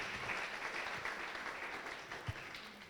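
Church congregation applauding to acclaim the word of God at an evangelical teaching service: a steady, moderately distant wash of clapping with no pauses.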